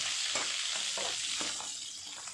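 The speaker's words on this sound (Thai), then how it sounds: "พุงปลาสวายทอด" Pangasius catfish belly frying in a pan over a gas flame, a steady loud sizzle with faint scraping stirs, close and continuous, with no voices.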